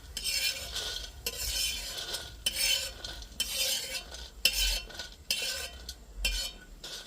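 Roasted sandge stirred with a metal spatula in a pan over a wood-fired stove, a series of rhythmic scraping strokes with light sizzling beneath, close and steady.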